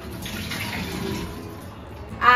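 Tap water runs steadily into a sink while strawberries are washed, a broad close splashing wash with a brief louder gush at the end.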